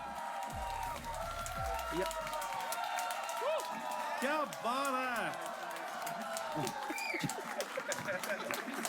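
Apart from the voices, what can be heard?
studio audience applause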